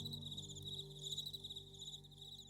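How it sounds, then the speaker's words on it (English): Steady high-pitched cricket chirping, soft and continuous, with a faint pulsing rhythm and no voices. "they hear the quiet song of crickets outside"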